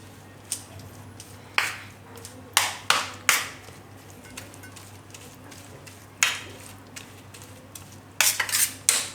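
Spices such as turmeric and asafoetida stirred in a bowl for besan aloo pudla, with a series of close, sharp scraping and clinking strokes in irregular bursts over a quiet background.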